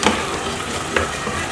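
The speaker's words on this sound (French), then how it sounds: "Vous remuez, vous remuez, vous remuez pour pas que ça colle." A spoon stirs curry rice in a hot pan, scraping steadily over a continuous close sizzle, with a couple of sharper scrapes as the rice is moved so it won't stick.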